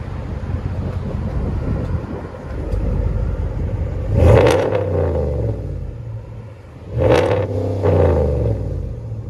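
A 2021 RAM 1500's 5.7L HEMI V8 with straight-pipe dual exhaust barks through two loud, sharp revs over a rumbling idle, each rising quickly then settling back to a deep burble.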